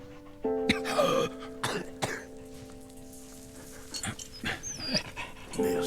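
A puppy in the game Valiant Hearts: The Great War pants, snorts and gives a couple of cough-like huffs, close and moderately loud, with a faint music tone in the background.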